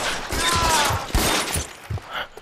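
Gunfire in the video game L.A. Noire: a dense cluster of sharp shots and thuds crackles over a noisy, busy scene, close and loud for a couple of seconds.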